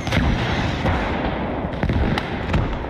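Anti-tank grenades and heavy gunfire in a WWII combat video game, dense continuous rumbling blasts and booms with sharp peaks, loud and close throughout.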